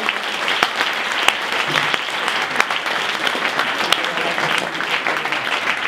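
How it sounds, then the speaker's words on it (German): A comedy show audience applauds, a loud, dense and even clatter of many hands that holds steady throughout, with occasional sharper individual claps popping out of the wash. "Also mal einen Applaus für die zwei."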